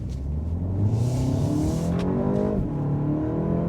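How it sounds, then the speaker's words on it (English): A 2025 BMW 228 Gran Coupe accelerating hard through a right turn, its engine note rising steadily with a continuous, loud, close drone that holds for several seconds. "I kind of put my foot down hard there when I made that right turn"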